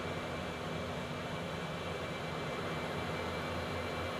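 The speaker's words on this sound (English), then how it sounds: "I bounced the Concorde." Concorde jet landing with thrust reversers deployed, a loud, steady roar of engine noise filling the scene without a break.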